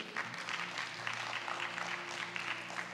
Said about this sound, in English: Hold on to the clap. I don't think you want to applaud yourself for that one yet.